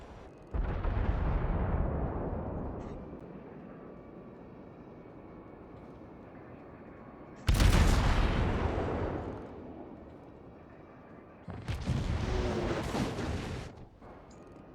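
Heavy gunfire and shell impacts boom in three loud, broad bursts during a World of Warships naval battle. Each blast is followed by a long, rumbling decay, with quieter ambient roar between them and no voices.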